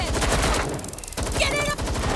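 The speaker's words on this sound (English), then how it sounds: "Shots fired!" Rapid bursts of gunfire in Watch Dogs: Legion, close and loud, with a short lull in the middle before the shooting resumes, along with a faint ringing tone.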